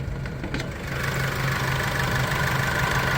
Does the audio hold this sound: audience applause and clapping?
no